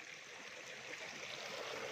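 Water flowing steadily in a small stream channel at a training camp, a continuous bright rushing and trickling wash that holds an even level throughout, close and loud, with no voices.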